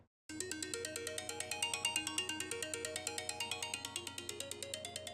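A phone ringtone plays a repeating melodic pattern of bright, evenly spaced electronic notes, clear and alone after a brief silence.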